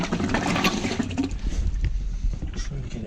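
Water flushing through the engine cooling system of a Hallberg-Rassy 54 sailboat, a steady close rushing and gurgling of liquid with a low churning undertone, continuous throughout.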